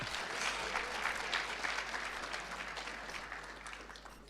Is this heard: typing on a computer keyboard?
no